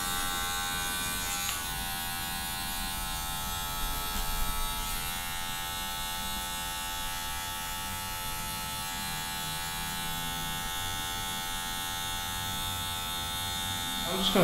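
A barber's electric hair clipper buzzes steadily and close while cutting and tapering a man's neck hair down to stubble, a constant hum under occasional talk.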